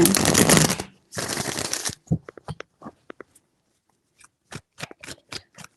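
Tarot cards riffle-shuffled close by in two long bursts, followed by a series of sharp taps and snaps as the deck is squared and handled.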